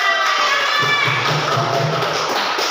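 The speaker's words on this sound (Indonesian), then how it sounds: "Tepuk tangan untuk kita semua." Students in a classroom clap and cheer together, a loud burst of crowd noise with shouting voices over scattered clapping, lasting a few seconds.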